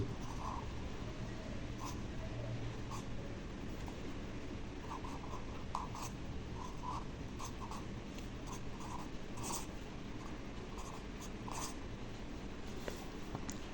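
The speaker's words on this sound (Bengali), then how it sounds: "এই দোয়াটি আমি সুন্দর করে বাংলায় লিখে দিচ্ছি।" A pen scratches across paper in short strokes and taps, writing a Bengali prayer by hand; close, steady scribbling with small pauses, no voices over it.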